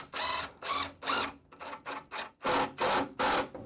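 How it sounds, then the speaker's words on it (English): Power drill driving a screw into an electrical box in repeated short bursts, about eight close, loud pulses of whirring with brief gaps between them, and no talking. "when it comes to the drill, you don't just wanna hold it down, you wanna kinda work your way in, then you can fully do it."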